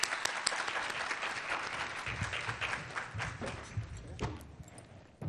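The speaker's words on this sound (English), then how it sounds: "let's give her a rousing round of applause" An audience at a procurement equity workshop applauds as a speaker comes to the stage, a dense, steady round of clapping that carries on for several seconds at moderate level before tapering off.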